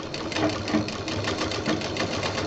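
A sewing machine stitches a handbag in one steady, close run of fast, evenly pulsing needle strokes, with no voices.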